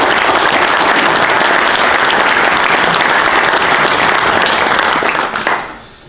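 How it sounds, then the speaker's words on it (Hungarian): A hall audience at a local Pécsvárad event breaks into sustained, loud applause, a thick, continuous roar of clapping lasting several seconds before quickly fading away at the end. "Tapsot szerintem megérdemel."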